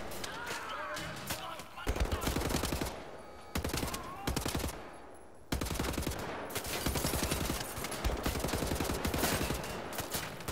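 Rapid gunfire from a weapon in the first-person shooter Wolfenstein: The New Order, dense bursts of repeated shots in long strings, loud and close, separated by brief pauses, with game audio behind.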